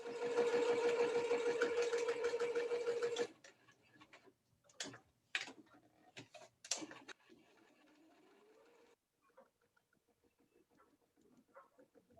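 A sewing machine stitches up two sides of fabric pattern weights, a fast steady mechanical hum and rhythmic ticking for about three seconds, then stops, followed by quiet handling knocks and rustles of fabric nearby.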